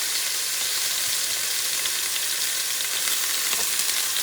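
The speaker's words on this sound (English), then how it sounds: "This is hot, so I have to move fast. And what I'm going to do, I'm going to add my tocino" Tocino hitting hot oil in a pan for lobster asopao, giving a steady, loud, close sizzle with broad hissing and occasional crackling pops throughout, no voices.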